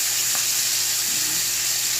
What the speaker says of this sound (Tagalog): Iprito na natin.